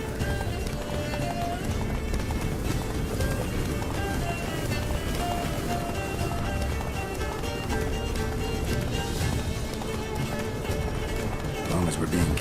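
Geralt's horse Roach gallops in The Witcher 3: Blood and Wine, a dense, steady drumming of hooves running without pause under game ambience, with voices talking over it.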